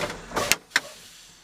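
Two brief, sharp pneumatic pops a fraction of a second apart as a truck's air brake valves spring out during a cab air brake test, closing out a short hiss, loud and close inside the cab.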